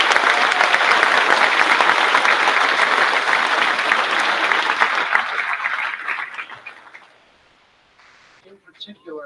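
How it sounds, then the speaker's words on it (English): A crowd at a middle school moving-up ceremony applauds class advisors and faculty, loud dense clapping that holds for about six seconds, then thins and fades to near silence, with faint sounds near the end. "Let's give them a round of applause."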